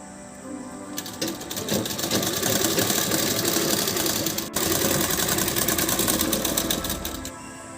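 Sewing machine stitching the shoulder seam of a blouse. It runs as a continuous fast mechanical rattle, close and steady for several seconds, then stops briefly and starts again.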